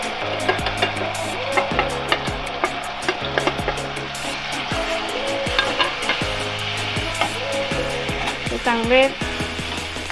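Spices fry in gravy for chicken biryani, a steady sizzle broken by repeated sharp clinks of a utensil against the pot, with a brief spoken word.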